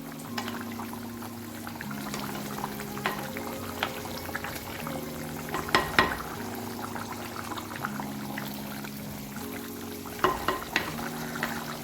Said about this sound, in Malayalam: ഒന്ന് നല്ല പോലെ ഒന്ന് വെട്ടിത്തിളച്ചോട്ടെ, അല്ലെങ്കിൽ കറി ചീത്തയായി പോകും